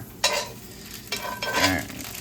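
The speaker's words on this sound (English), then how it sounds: "I like to mix around the pasta a little bit as it starts to prevent the noodles from sticking together." Pasta gets stirred in a pot on a home stove, with sharp scraping strokes in short separate bursts and a faint sizzle from the pan beneath them. No one speaks.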